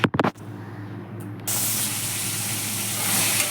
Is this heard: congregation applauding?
no